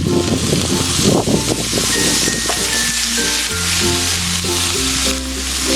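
Soaked, drained anchovies (teri) sizzling loudly in a pan while being stir-fried with shallots and garlic, a constant close frying hiss with stirring scrapes and clatter, and no talking.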